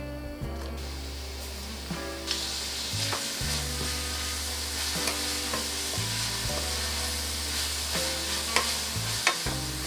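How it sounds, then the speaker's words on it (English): Vegetables sizzle steadily in olive oil in a pan on medium-high heat, a continuous frying hiss broken by repeated utensil scrapes and clicks against the pan and a low background hum. "saute the vegetable for 5 to 6 minutes on a medium-high heat"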